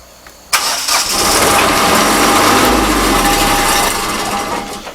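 A Mahindra eMax compact tractor engine cranks and fires, catching abruptly and settling into a steady, loud, close idle that holds alone for several seconds.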